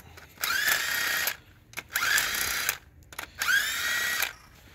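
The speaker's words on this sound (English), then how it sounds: "Just about already got the bolts broke loose, so just going through, getting them ready to pull out." An impact tool on an engine's cylinder head bolts gives three loud, whining bursts, each about a second long, with short quiet gaps between them.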